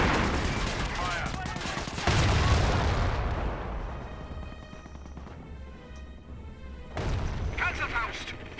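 Gunfire and artillery in the World War II strategy game Company of Heroes: a dense barrage of loud booms and rapid shots rolls on for several seconds, then tails off into scattered reports before another heavy burst, with voices calling out under the battle.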